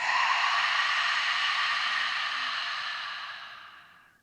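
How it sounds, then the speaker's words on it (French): A long, steady breath exhaled through the mouth during a yoga session, a soft airy rush that holds evenly for several seconds and then fades out, close and alone. "Et on expire par la bouche."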